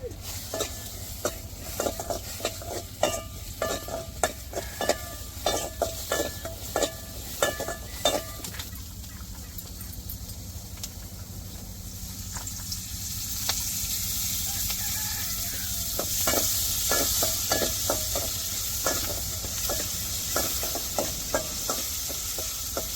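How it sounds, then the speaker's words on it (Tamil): Steady sizzling of shallots and mustard seeds frying in hot oil, with occasional sharp stirring clinks early on, the crackle swelling louder toward the end. "இப்போ தாளிக்கிறதுக்கு நான் சின்ன வெங்காயம் கடுகு சேர்த்துருக்குறேன்"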